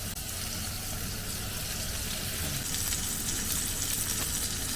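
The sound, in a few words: steak frying in cast iron pan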